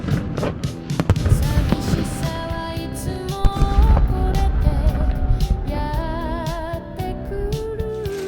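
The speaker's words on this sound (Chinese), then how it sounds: "每晚8点45分会有约20分钟的烟火" Fireworks burst at a traditional Japanese hot spring hotel in Hokkaido, repeated booms and crackles overlapping in a dense, loud sequence with whistling tones.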